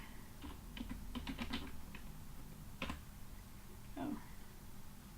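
Quiet, irregular clicking of keys on a computer keyboard during a coding session, with short bursts and pauses under a faint background hum.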